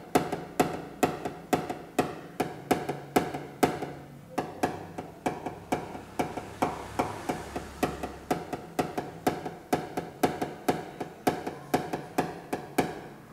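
A hammer taps out a dent in a car panel during paintless dent repair, with light, crisp metallic strikes repeating at a steady quick rhythm, close and clear.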